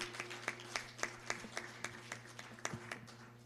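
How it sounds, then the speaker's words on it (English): Hands clap at a live youth spiritual gathering in Punjab, a thin scatter of close, crisp claps in a loose, fairly steady rhythm rather than a dense roar of applause. "giving a big round of applause to all the wonderful people who are here"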